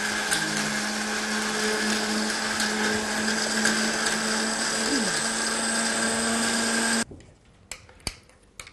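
A blender grinds spices with a little water steadily and loudly for about seven seconds, then cuts off, leaving a few faint clicks and knocks.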